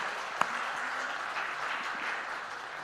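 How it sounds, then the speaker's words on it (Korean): A church congregation applauds steadily during a Sunday worship service, a dense even patter of clapping throughout with one sharp louder clap near the start. "박수 다시 한번 올립니다."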